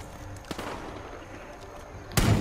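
Gunshots in the Far Cry 5 game: a couple of sharp cracks early on, then a louder, heavier blast near the end, over quiet game ambience.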